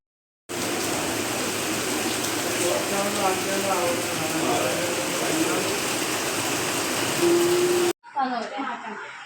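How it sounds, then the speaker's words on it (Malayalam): Heavy rain pours steadily at a wedding-eve gathering, a dense continuous wash of falling water with people talking over it, cutting off abruptly near the end before faint voices resume. "കുറച്ച് നല്ല മഴയാണ്"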